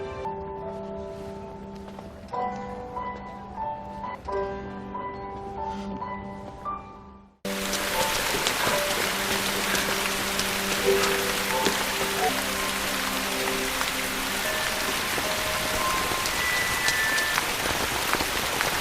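Rain falls steadily in the closing scene of a Korean romance film, first faint beneath soft piano music and then, after an abrupt cut, a loud, dense, even patter filling the scene on its own.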